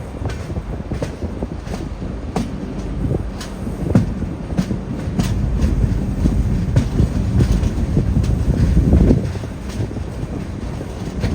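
The Venad Express pulls into Irinjalakuda railway station with a continuous rolling rumble and repeated sharp wheel clacks, steady and fairly close, under a cloudy sky with some wind noise on the microphone.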